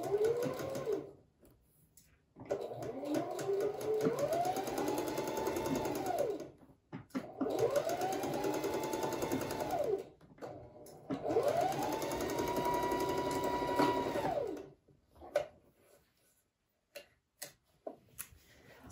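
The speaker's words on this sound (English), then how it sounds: "So with that first seam stitched at a quarter inch" A sewing machine runs in several steady bursts while stitching a quarter inch seam for a French seam sample, with a rhythmic whirring motor and short pauses between runs, then a few faint clicks at the end.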